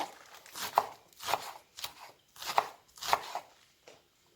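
A knife finely chopping lettuce leaves for kısır strikes a board at close range in an even rhythm, about seven crisp cuts in a few seconds.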